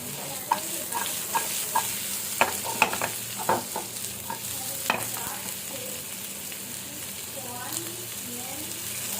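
Blanched mixed vegetables tossed in a hot pan, giving a steady sizzling hiss with a run of light, irregular scrapes and clatters from stirring, close and fairly loud, with no voices.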